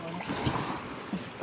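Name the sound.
strong sea waves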